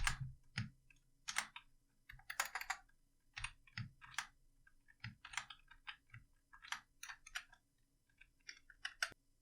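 Typing on a computer keyboard, with irregular bursts of close, crisp key clicks and brief pauses, heard alone without talk while writing HTML.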